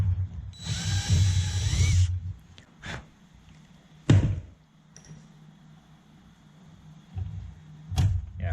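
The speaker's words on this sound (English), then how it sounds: "I'm just going to run down into that with an 1/8 inch bit" A power drill with a 1/8 inch bit runs into a rivet hole in a CriCri airplane wing spar, one sustained high whine of about a second and a half, followed by a few sharp knocks and brief tool bursts nearby.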